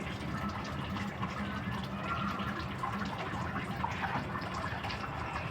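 Water running and splashing into a container being filled to give birds relief from summer heat, a continuous gurgling, trickling flow at close range with faint voices in the background.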